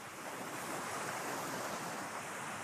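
Waterfall cascade in nature near Kuala Lumpur, Malaysia, giving a steady broadband rushing wash of falling water, constant and moderately loud with no speech.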